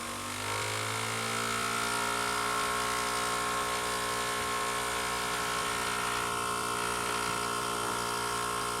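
Small homemade generator motor with hand-wound fields spinning at higher speed, a loud, steady electric whine with a rising pitch that settles into a constant drone, close and alone.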